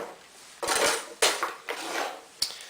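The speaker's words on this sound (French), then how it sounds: "Donc on va couper en morceaux assez gros" Far breton being cut into large pieces, several distinct knife strokes and clinks against a plate or dish, close and clear with quiet gaps between cuts and no talking.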